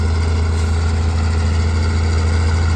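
A road-construction machine, a grader or compactor, idling as it is loaded onto a truck: a steady, loud low engine rumble that holds unchanged throughout with no voices.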